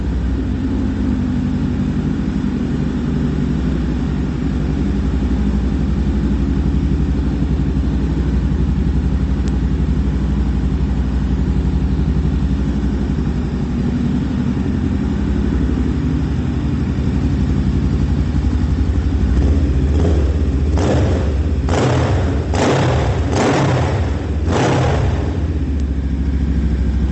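A 2020 Honda Rebel 500 cruiser motorcycle with a custom exhaust idles with a steady, loud rumble, then gives a few quick blips of the throttle near the end. It sounds close, with no talking.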